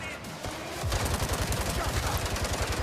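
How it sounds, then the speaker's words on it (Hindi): Rapid automatic gunfire in the Gangstar open-world video game strikes an enemy's shield, a dense loud rattle of shots that begins after a brief pause and keeps hammering steadily to the end. "उसकी शील्ड पे गोलियां लग रही है सारी"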